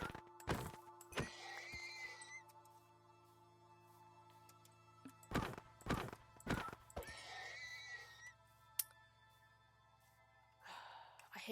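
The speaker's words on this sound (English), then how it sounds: "I hate killing the horses. They make an awful sound." Horse in a video game giving several short, loud breathy whinnies and distressed cries spaced across the clip, over a low steady hum.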